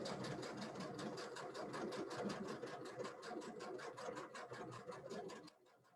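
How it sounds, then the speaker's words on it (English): A Baby Lock sewing machine with digital dual feed stitches quilting straight along a marked line, a rapid, steady mechanical chatter close by that runs for several seconds, then stops abruptly near the end. "So I'm going to drop the foot and stitch directly on that line."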